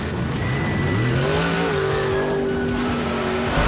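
Monster truck engine roaring steadily with rising and falling tones as the truck drives toward a jump at a stunt event, loud and continuous with a brief surge near the end.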